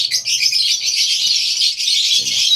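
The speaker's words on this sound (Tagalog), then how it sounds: "Available lahat ng mga ibon na to." Many small birds in a crowded aviary in Valenzuela chirp and twitter continuously, a bright, close, dense chorus that fills the space without pause.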